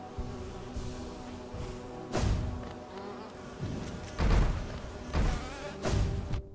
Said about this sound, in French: Il y a les abeilles qui sont cachées dans le décor